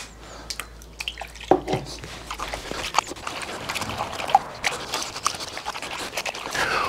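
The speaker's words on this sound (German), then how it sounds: "Die dreckigen, veralkten Schnüre hier, die wasche ich jetzt von Hand." Dirty, limescale-crusted strings are washed by hand in hot water with soft soap, giving irregular splashes, drips and sloshing at close range, with a voice speaking briefly.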